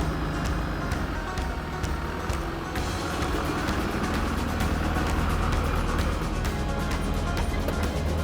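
A Clark County Highway Department truck drives over to a wet pothole, its engine a steady close rumble with clattering ticks, and no one speaking.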